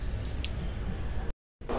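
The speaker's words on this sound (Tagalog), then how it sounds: "pindutin yung pulang button para mag-release ng pressure. May lalabas na tubig." Water squishes and sputters out of a sediment filter housing as its red pressure-release button is pressed, a close, continuous wet hiss that cuts out briefly and then resumes, with no talk.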